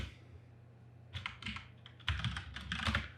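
Typing a Linux terminal command on a computer keyboard: a few soft clicks, then quick bursts of keystrokes, close and quiet against a faint hum.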